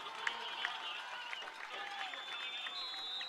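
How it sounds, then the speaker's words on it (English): Crowd at a high school football game between Monett and Hollister, with a steady roar of cheering and scattered claps and shouts from the stands, loud and continuous through the moment. "The Hollister bench hyping up the crowd right now."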